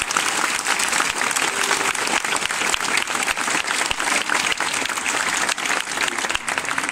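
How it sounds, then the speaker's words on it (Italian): Sustained, dense applause from a congregation honouring a religious confraternity at a Saint Anthony of Padua feast in Capizzi, loud and steady throughout with no talk over it. "Vi invito a fare un applauso di cuore."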